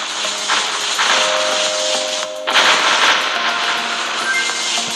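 Enemy shots in the arcade space shooter Galaxy Attack Alien Shooter, a steady hissing stream of rapid synthetic firing with electronic tones layered over it and a short dip midway.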